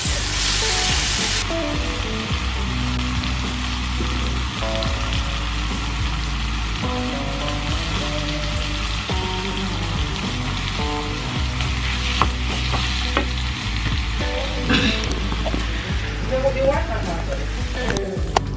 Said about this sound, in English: let's chuck in our mushrooms. Should be able to fry pretty quickly in about 2 minutes at pretty high heat